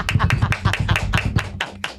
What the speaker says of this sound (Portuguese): Palmas, pessoal! Não é só bater na mesa.